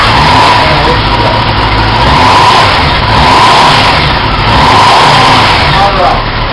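A motorcycle engine freshly fitted with a rebuilt carburetor runs and revs loudly and close, a steady rough drone rising and falling slightly throughout, with a voice talking over it.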